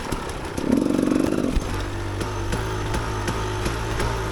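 A KTM EXC 250 two-stroke dirt bike rides off-road over logs, its engine revving up hard for a moment and then settling into a steady, rhythmic running drone close by.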